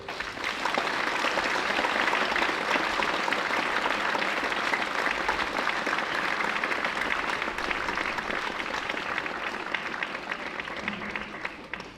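Sustained applause from an audience at a Christmas charity gala, dense steady clapping filling the whole stretch at even loudness, tapering slightly near the end.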